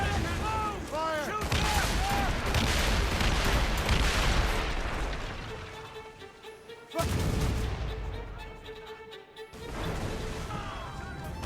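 Ship cannons in Assassin's Creed Rogue boom in heavy, crashing volleys at sea, one big blast standing out midway, with shouted crew orders and battle noise all around.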